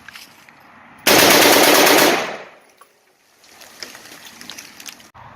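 A rifle bump fired by hand, with no bump stock, unleashes a loud, rapid burst of gunfire lasting about a second outdoors, followed by a fading echo and quieter rustling.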